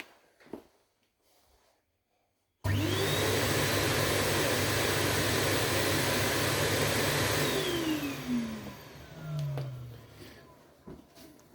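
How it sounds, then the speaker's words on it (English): A Numatic Nuvac vacuum cleaner, used for vehicle valeting, switches on after a quiet moment and runs with a steady, fairly loud motor whine and airflow roar. Near the end its pitch drops as it winds down. "I'll switch it on because the other thing about this is it's super quiet"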